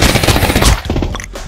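Rapid automatic gunfire from a weapon in the VR version of CS:GO, a dense loud burst for most of the clip that cuts off and leaves quieter echoing shots and game noise.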